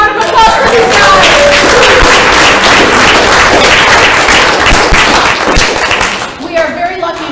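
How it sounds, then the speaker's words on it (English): A town hall meeting audience claps in a loud, fairly close burst of applause with some cheering voices, which fades near the end as talk resumes. "Big round of applause for these guys!"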